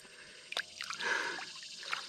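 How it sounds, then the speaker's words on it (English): Hands rubbing dirt or sand together in water to scrub off fish slime: close wet squishing and dribbling, brief splashy scrapes building into a steadier gritty swish. "grab you some dirt or sand, rub it together in the water, and all that grit will pull all that slime off your hands"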